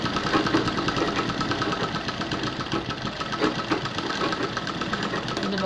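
A sewing machine stitches a blouse patti piece with a steady, fast mechanical whirr and a rapid needle clatter, running continuously and close by.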